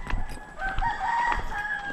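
Chickens cluck and a rooster crows on a farm, the crow rising in clear tones over scattered clucks and low background noise, moderately close.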